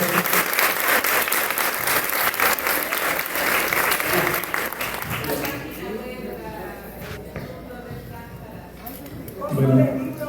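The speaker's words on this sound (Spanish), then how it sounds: "Un aplauso al profe" Loud audience applause for a visiting doctor after his talk, dense clapping that tapers off over several seconds into crowd murmur and a voice speaking.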